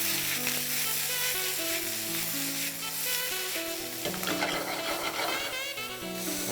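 Chopped peppers sizzle and simmer in a pan on a Jamaican stovetop while they cook down for a chicken ham quesadilla. A steady, close frying crackle runs throughout over a bed of background music.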